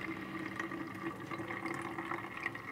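Homemade coconut milk trickles through a small sieve, a soft continuous splashing of liquid over a faint steady hum.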